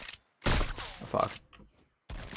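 Gunfire from a sniper rifle in Fortnite, with a few sharp loud bursts separated by short gaps, mixed with game sounds and some talk.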